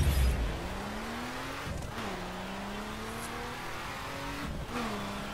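A RUF 3400 K accelerating in The Crew racing game, its engine climbing steadily in pitch through several gear shifts with brief dips between, close and unaccompanied by talk.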